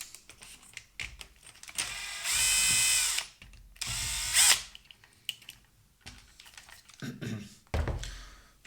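A power screwdriver whirs in two sustained bursts while backing a screw out of a Bang & Olufsen Beomaster 3500 receiver panel, with clicks, handling taps and plastic knocks between and after the runs.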